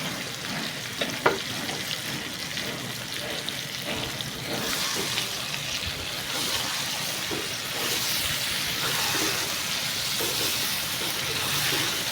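Ground ginger, garlic and onion paste frying in a pan, a loud sustained sizzle and crackle that swells after the paste goes in, with occasional stirring clatter, no speech.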